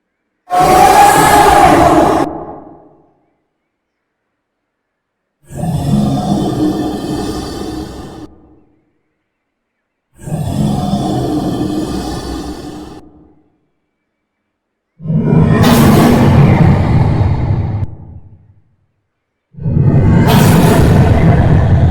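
Five loud creature calls from the Roblox game Creatures of Sonaria, each a roaring burst of about two to three seconds separated by short silences, without any talking.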